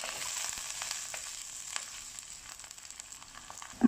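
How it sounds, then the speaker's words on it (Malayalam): Garlic, ginger and curry leaves sautéing in hot oil give a steady, soft hiss of sizzling with light crackles, fairly quiet and close, ending in a brief knock. "എല്ലാം കൂടി നമുക്കൊന്ന് നന്നായിട്ട് വഴറ്റിയെടുക്കണം."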